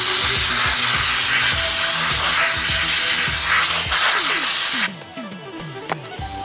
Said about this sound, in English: Then you're going to blow it out with compressed air.